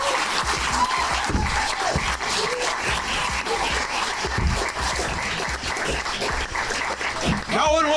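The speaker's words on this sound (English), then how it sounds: "Faisal Shafi, give him a nice round of applause." A comedy club crowd at the Hollywood Improv applauds comedian Faisal Shafi after his stand-up set, loud, continuous clapping with voices and cheers mixed in, while a host talks over the noise.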